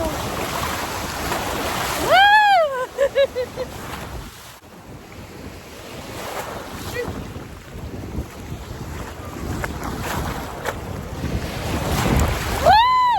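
Ocean waves splash around a boat at sea, with wind buffeting the microphone and a steady rush of water; a woman's excited whoops ring out at the start and again at the end.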